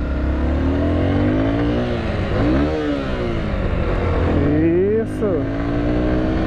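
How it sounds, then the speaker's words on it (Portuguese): A Yamaha Crosser motorcycle engine revs loudly and close, its pitch climbing and falling in repeated throttle swells amid traffic, while someone speaks briefly. "quando o giro sobe assim, não coloca a marcha, não."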